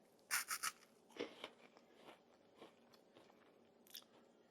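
Crisp bites into freeze-dried chocolate-covered cherries give a quick cluster of three sharp crunches, then softer crackling chews with one more snap near the end, close and quiet.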